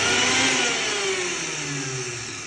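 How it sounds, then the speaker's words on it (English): A Bajaj Supreme 450 watt mixer grinder runs with a loud, steady motor whine close by, its pitch sliding slightly lower as it continues for a couple of seconds, with no voices. "So you may realize that this mixer grinder is in proper working condition."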